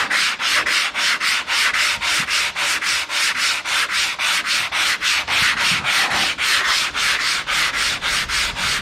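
Rhythmic sanding strokes on car bodywork scrape back and forth at a steady, quick pace, close and loud, with no talking.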